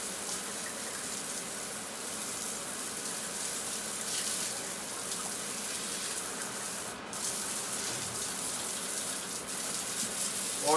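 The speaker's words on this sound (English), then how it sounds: "I'm just kind of hosing it down" Continuous broadband hiss of water spraying from a hose onto a painted floor during cleanup after a clogged sewer line, steady and fairly loud with a brief dip midway.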